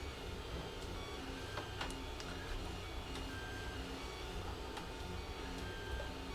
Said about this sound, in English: there's our 3D printer set up